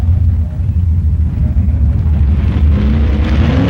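Two 1965 factory experimental drag race cars at the NHRA Winternationals, making a deep, loud, continuous engine rumble that rises slightly in pitch as the cars launch down the strip.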